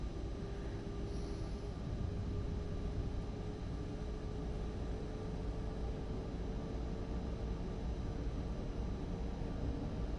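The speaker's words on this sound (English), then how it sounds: "This is one of my favourite German locos, actually, the 101." Continuous rumbling hum of a German Class 101 electric locomotive under way in Train Sim World 4, a steady low drone with rail noise and a faint high whine, even and unbroken with no talk.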